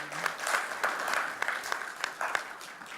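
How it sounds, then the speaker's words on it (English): An audience at a talk on education reform and Black educators claps in sustained applause for a man being thanked, a steady dense patter of many hands with a few sharper claps, fairly close and without speech over it. "Mr. Willie Williamson. Give him a round of applause."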